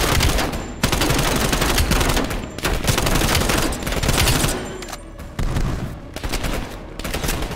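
AK-74 rifle fire in Call of Duty: Black Ops Cold War, loud sustained automatic bursts close by, broken by brief pauses, nearly unbroken for several seconds with no talking.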